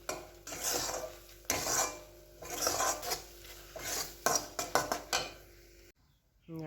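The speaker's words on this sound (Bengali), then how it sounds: "আমি এইভাবে নেড়ে চেড়ে একদম শুকনো শুকনো মতন করবো।" A utensil scrapes and knocks against a pan in uneven bursts while food is stirred until it dries out, fairly quiet, ending in a short near-silence.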